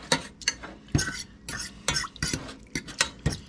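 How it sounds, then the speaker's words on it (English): A utensil stirs a cold mixture in a pan, giving repeated scraping and clinking strokes in an uneven rhythm, close by with no talk. "Now I'm just going to stir it up."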